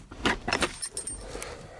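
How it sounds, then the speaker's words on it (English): Dropped car keys jangle on cold ground outdoors, a cluster of bright metallic clinks and rattles at close range that settle into quieter background noise. "dropped my keys"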